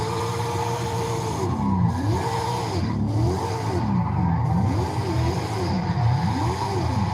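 A car in Forza Horizon 5 cruises and drifts, its engine revs rising and falling in a repeated wavering pattern under steady road and tire noise.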